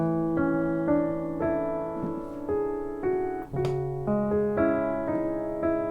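Two bars of "Through It All" played on piano with both hands, a steady run of struck chords and single notes with pedal sustain, a brief lift between the bars, close and solo with no talking.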